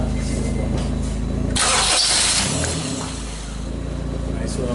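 A 2001 Honda CR-V with a camshaft and crankshaft position sensor fault cranks and starts, a steady idle hum broken by a sudden loud cranking surge that settles back into an engine running, heard after a brief spoken cue.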